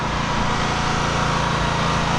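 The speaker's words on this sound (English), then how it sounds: "they got the machine here that's going to be pumping the cleaning produce" An outdoor machine pumping cleaning product for graffiti removal gives a steady, close engine drone, like a small motor running without pause.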